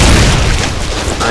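A close mortar shell blast in Foxhole, a loud heavy boom filling the whole moment with dense low rumble, with a voice shouting over it.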